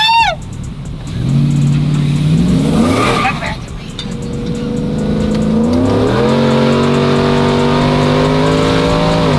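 A Chevrolet SS clone pickup truck engine pulls away while driving, its loud, steady drone climbing in pitch through the gears as the truck accelerates, with a brief rougher burst partway through.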